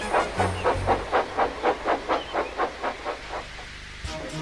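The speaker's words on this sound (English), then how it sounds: "Thomas and Percy puffed happily up and down the line" A model steam train chuffs along a model railway track in a steady rhythm of about a dozen soft hissing puffs that gradually slow and fade, quiet and close with no voices.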